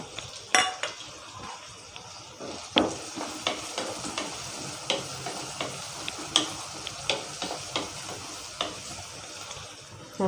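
Small onions and green chillies fry in a pan, a steady sizzle broken by repeated scraping and stirring clicks of a spatula against the metal, close and moderately loud with no talking.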